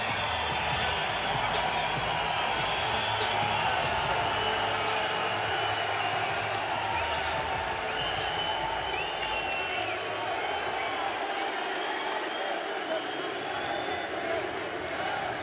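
Crowd at SSE Arena, Wembley in London for a Bellator MMA event, a dense continuous roar of many voices throughout, with an announcer talking over it.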